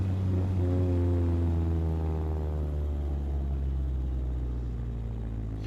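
Chevrolet engine lifting off in second gear around 3000 RPM, a steady loud low exhaust drone with descending harmonic tones as revs fall on overrun, close and continuous without talk.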